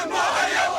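A big crowd at a march of thanks gives off a brief, dense roar of many voices cheering together.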